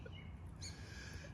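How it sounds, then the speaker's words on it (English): A bird calls faintly near a truck outdoors, giving a brief chirp over a steady low rumble of background noise. "I believe this bird has a little bit of a love-hate relationship with my truck."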